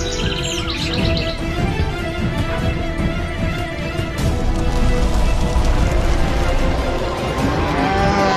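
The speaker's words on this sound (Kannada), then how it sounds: "ಈ ಎಲ್ಲಾ ಹಕ್ಕಿಗಳು ಎಲ್ಲಿ ಹೋಗ್ತಾ ಇದ್ದಾವೆ? ನನ್ಗನ್ಸುತ್ತೆ ಎಲ್ಲಾ ಹಕ್ಕಿನೂ ವೃಂದಾವನ ಬಿಟ್ಟು ಹೋಗ್ತಾ ಇದ್ದಾವೆ." A flock of birds chirps and tweets busily as it flies off over Vrindavan, while cattle moo loudly and repeatedly underneath, everything close and dense for the whole stretch.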